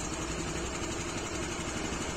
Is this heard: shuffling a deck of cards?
no